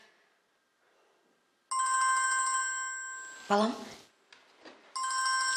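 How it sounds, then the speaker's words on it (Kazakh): A telephone rings with a bright electronic ringtone in two bursts, loud and close, with a short voice speaking between them. "телефон шырылдап жатыр."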